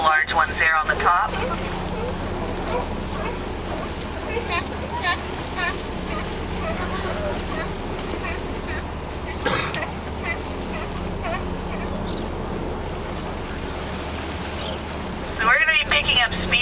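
Boat motoring out of Monterey Bay and picking up speed, a steady engine and water rush under strong wind buffeting, with brief bursts of noise near the start and end.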